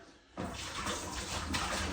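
Water pours steadily into a bucket for mixing drywall mud, starting abruptly after a brief quiet moment and continuing as a loud, continuous splashing rush.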